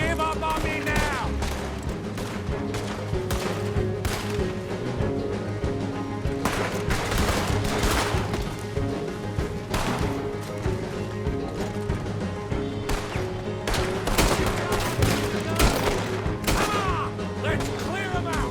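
Gunfire in a Red Dead Redemption II shootout: rapid, repeated shots crack out in irregular bursts over a dense layer of game music and ambience, with clicking mechanical sounds mixed in throughout.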